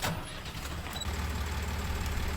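Tractor engine in a farming survival video game, running as a steady, low idling rumble that holds evenly throughout with no other sounds.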